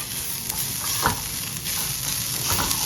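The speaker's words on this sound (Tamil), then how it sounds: "போட்டுட்டு உடனே இந்த தேங்காய் பூவும் போட்டு வதக்கிறேன்" Grated coconut sautés in a pan for a Tamil thuvaiyal, a soft constant sizzle with a few light scraping stirs of a spoon, close and steady with no talking.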